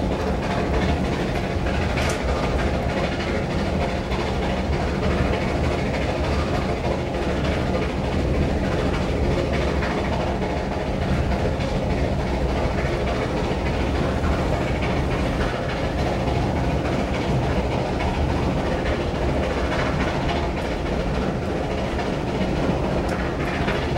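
Passenger train ride between Sherborne and Yeovil Junction heard from inside a carriage, with a continuous loud rumble, rattling and faint clickety-clack of wheels on rails throughout, no talking.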